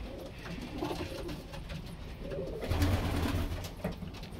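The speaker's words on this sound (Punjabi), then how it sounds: "ਇਹ ਜੀ ਆਪਣੇ ਜਿਹੜੇ ਮੇਨ ਕਬੂਤਰ ਨੇ" Golden and Sialkoti breed pigeons coo softly in a loft in the UK, low throaty murmurs rising and falling over a few seconds, faint and close, with no voices.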